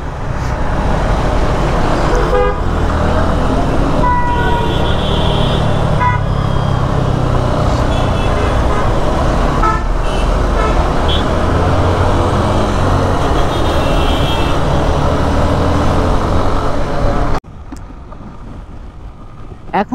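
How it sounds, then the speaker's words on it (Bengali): Congested road traffic in Bangladesh, heard from a motorcycle stuck in a jam, with a loud, steady engine and road rumble and several short horn toots over it before the noise suddenly drops away. "এখানে একটু জ্যামে পড়ছি"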